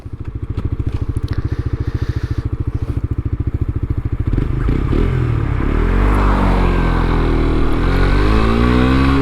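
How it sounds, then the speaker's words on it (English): A 2021 Suzuki GSX-S125 with a single-cylinder 124cc engine chugs at a steady, rapid idle-like pulse, then rises into a loud, smooth rev as the bike accelerates, with wind buffeting close to the microphone. "Is a single cylinder engine,"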